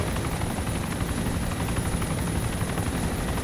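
A helicopter in the video game Arma II drones loud and close with a constant rotor chop and engine whine, steady throughout with no talking.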